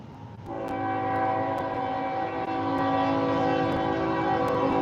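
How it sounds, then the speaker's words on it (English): A train rolls past with its horn sounding steadily over the rumble of the cars, loud and close, a sustained chorded blare running through nearly the whole stretch. "Here's another train."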